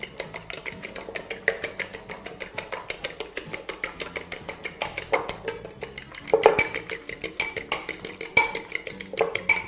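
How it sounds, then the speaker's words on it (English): A whisk beats a spiced egg mixture in a bowl, giving rapid, evenly spaced metallic clicks and taps close up, with a few louder clinks against the side. "And then whisk your mixture up together once you've added all your spices."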